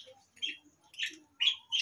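Pet birds in a cockatiel breeding aviary give a few short, high chirps and tweets in quick bursts. The calls are faint and close together, with quiet gaps between them.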